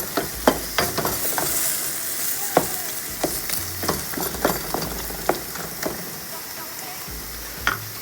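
Ground beef frying in its own fat in a pan for spaghetti meat sauce, a steady close sizzle broken by repeated scraping stirs and turns, with no talk over it.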